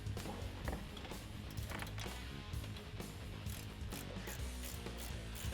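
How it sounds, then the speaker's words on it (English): A ratcheting wrench tightens nuts on a lift kit for a 2009-2018 Ram 1500 pickup, giving quick, close, faint bursts of clicking ratchet pawl in an uneven rhythm, with no talk. "For these, I like to use a ratcheting wrench."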